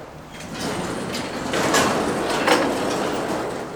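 A retractable door at a chop shop is pulled open with a long metallic sliding rattle and rumble that swells in the middle, steady and fairly loud, with no talk.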